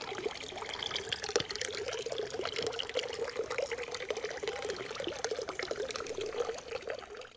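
Water from a small drinking fountain on a mountain hiking trail near Salerno, Italy, filling bottles; a steady close splashing pour with faint trickles and gurgles, no voices.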